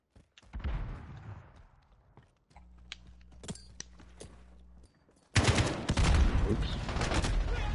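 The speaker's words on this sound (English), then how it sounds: "Oh, I forgot I was using a burst weapon" Burst-fire weapon shots in Call of Duty Modern Warfare: a short volley opens, a low hum follows, then a loud, dense stretch of rapid gunfire fills the last few seconds.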